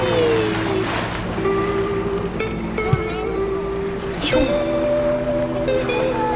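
A sailboat runs under engine power in light wind near Isla San Francisco, its steady motor drone and water rush continuing throughout, with a voice speaking over it.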